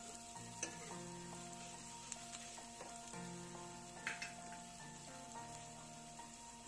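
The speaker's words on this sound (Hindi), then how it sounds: "अदरक को भूनेंगे अच्छी तरह।" Ginger sizzles in a pan while a spoon scrapes and stirs at irregular intervals, a soft, close frying hiss under faint background hum.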